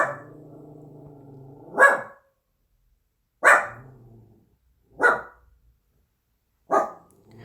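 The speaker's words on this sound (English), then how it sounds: "Sorry, the dog's barking." A dog barks indoors, four loud, sharp barks spaced roughly evenly apart, preceded by a steady whining tone, with no talking.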